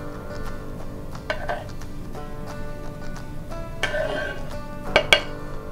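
The back of a knife blade scrapes chopped vegetables across a cutting board, giving scattered light scrapes and clinks against steady background noise, with a couple of sharper taps near the end.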